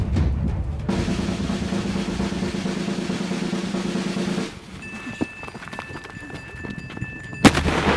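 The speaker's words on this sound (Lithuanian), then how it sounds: "Šit petardas sprogs, karas prasidės." Firecrackers go off outdoors during a snowball fight: a steady rushing noise gives way to scattered sharp pops, then one loud crack near the end.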